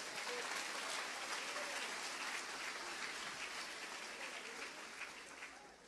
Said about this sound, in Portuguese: levanta essa mão santa e dê um brado de glória para o Rei. Aplauda Jesus, vamos